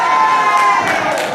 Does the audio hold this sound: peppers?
no